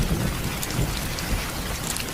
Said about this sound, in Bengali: কথাটা বলতে কিনা বলতেই বৃষ্টি শুরু হয়ে গেল।